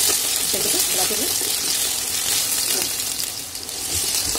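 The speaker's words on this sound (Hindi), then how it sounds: "अब इसी में जो आलू हमें रफली कट करके चॉप करके रखा था उसको भी डालकर फ्राई करेंगे।" Roughly chopped potatoes fry loudly in a pan, with a steady bright sizzle and occasional stirring scrapes throughout.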